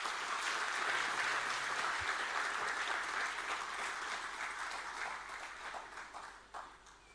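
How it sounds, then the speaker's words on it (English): Audience at a university orientation programme applauding as a speaker comes up on stage, a steady wash of many hands clapping at moderate distance, slowly thinning toward the end. "Please join me in welcoming sir with a huge round of applause."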